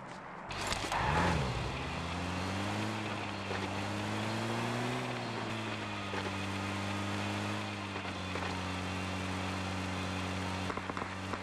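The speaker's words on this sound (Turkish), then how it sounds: "Hemen arabayla güvenli bölgeye doğru" Car driving in PUBG Mobile, a steady engine hum with a pitch that rises and settles as it accelerates, continuous and fairly quiet for about eleven seconds with light background noise.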